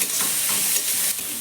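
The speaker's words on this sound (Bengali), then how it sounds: "পেঁয়াজ আর ক্যাপসিকামটাকে একটু নাড়াচাড়া করে হালকা করে একটু ভেজে নিতে হবে।" Thinly sliced onion and capsicum frying in a pan while being stirred, giving a loud, steady close sizzle and hiss with no voices.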